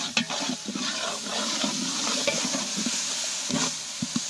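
Ginger garlic paste frying with sautéed onions for vegetable biryani, a busy sizzle with repeated spoon scrapes and clacks against the pan, close and fairly loud, with no one speaking.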